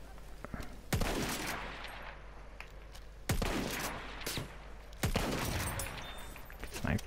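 Rapid gunfire bursts from the Battlefield 1 video game, sharp loud volleys at about one, three and five seconds with continuous combat noise between them, a player occasionally talking underneath.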